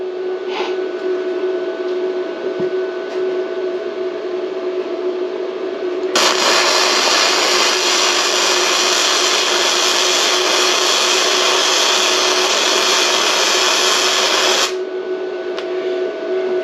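A brand-new Bestarc MIG145 MIG welder runs a bead about an inch long on its very first use, giving a loud, steady crackling hiss for roughly nine seconds over a constant background hum.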